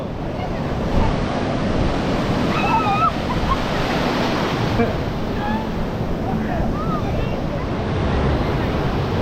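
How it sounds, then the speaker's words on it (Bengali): Steady roar of ocean surf breaking on Cox's Bazar sea beach, Bangladesh, continuous and full, with faint voices and wind noise in the background. "বিশাল ঢেউ"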